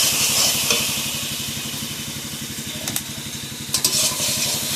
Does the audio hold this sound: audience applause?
no